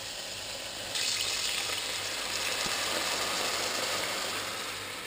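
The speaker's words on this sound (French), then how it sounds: "Je colore le rôti sur toutes les faces" A lamb saddle roast searing in a pan, sizzling loudly and steadily from close up with a faint scrape partway through, no voices.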